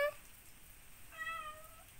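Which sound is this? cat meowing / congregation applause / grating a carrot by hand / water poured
cat meowing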